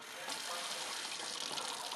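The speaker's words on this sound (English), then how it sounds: "If I put it under the water stream here" Hot water from the tap of a Heliatos solar water heater gushes in a steady hissing stream, close and continuous, with something held under the flow.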